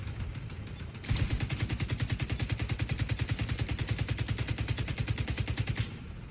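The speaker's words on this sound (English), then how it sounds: "It's avoiding our gunfire." Sustained automatic gunfire in the video game The Division 2, a rapid, evenly spaced burst of loud shots running for about five seconds after a brief lead-in of quieter fire.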